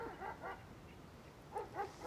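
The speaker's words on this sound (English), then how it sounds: "What is she barking at? Oh, who cares? Shut up, dog!" A dog barks in two short pairs of yips, a brief pause between them, moderately close over a faint background hum.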